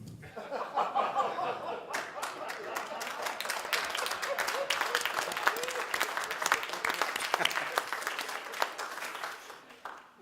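Audience applause rolls through a satirical politics panel after a cartoon is shown, a dense steady crowd clapping with scattered laughter and chuckles mixed in, loud and sustained for the whole stretch.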